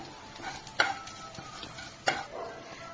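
Onion and ginger stirred in a pan for rava idli, with two sharp scraping strokes of a spoon over a quiet, faint sizzle, close by.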